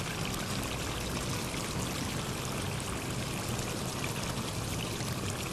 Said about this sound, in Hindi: जितना हमें शोरबा रखना है उतना हम इसमें पानी डालेंगे।